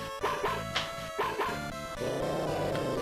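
Boney the dog from the video game Mother 3 growls and yips in a series of short, bright bursts over looping game music, several quick yelps at irregular intervals, loud and up front.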